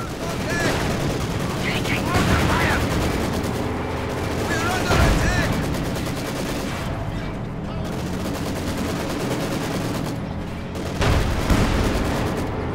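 Constant machine gun bursts and booming artillery fire from the World War II strategy game Company of Heroes 2 fill the whole stretch in a dense, loud battle din, with a commentator talking over it.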